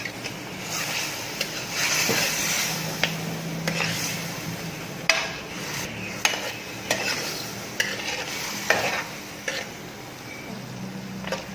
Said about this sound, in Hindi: अब इस गोश्त को आपने इसमें अच्छी तरह भूनना है।